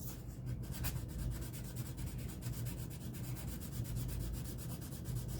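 Hand sanding of a pinball playfield's gold-plated metal parts with 600 grit sandpaper, a close, steady papery rubbing that runs continuously with rhythmic back-and-forth strokes and no talk.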